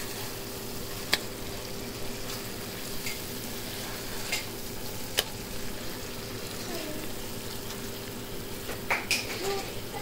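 Fish sizzles steadily in hot oil in a pan for fish curry, a constant loud frying hiss broken by a few sharp pops and utensil clicks.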